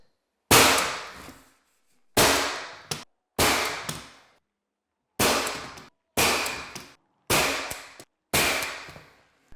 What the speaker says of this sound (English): very carefully put a couple nails in here